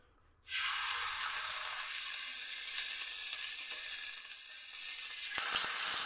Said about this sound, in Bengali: ফোড়নটা আমার ভাজা হয়ে গেছে, এখন দিয়ে দিচ্ছি আদা কাঁচা লঙ্কা বাটা।